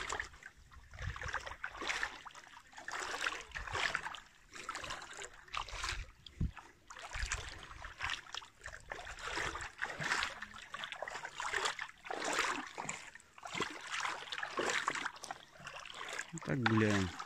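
Water sloshes and splashes irregularly as a Progress motorboat is hauled by hand through shallow water about half a meter deep on Lake Seliger, with someone talking over the close, uneven splashing.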